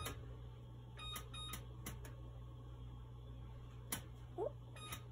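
An oven's control panel being set to 400 degrees gives a series of short electronic beeps, some in quick pairs and others spaced apart, over a low steady hum.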